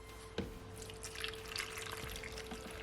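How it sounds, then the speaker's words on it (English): Liquid is poured into a blender for Caribbean carrot punch, making a steady close trickle and splash. The pour continues across the whole stretch with a small drip near the start, and no one talks. "And I'm gonna also add the liquid."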